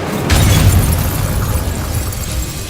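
Incendio fire spell blasts a wall in Hogwarts Legacy, a loud crackling burst that starts early and then settles into a sustained roaring, rumbling wash with a crumbling texture, with no voices over it.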